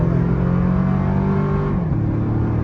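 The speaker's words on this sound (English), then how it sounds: "Get straight, and then there it is, wide open throttle" A Toyota 4Runner TRD Pro SUV in sport mode accelerates at wide open throttle, its engine a loud, steady rising roar with a brief dip near the end as it shifts, then pulling on.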